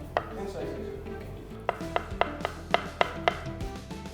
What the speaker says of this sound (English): Now, I'm gonna slice tofu.